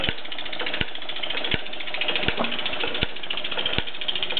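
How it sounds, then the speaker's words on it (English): A 1967 Mamod SE1 toy steam engine drives line shafts through gears, making a rapid continuous mechanical rattle with regular sharp clicks, close and steady without speech. "you see it's turning over the line shaft setup without any problems"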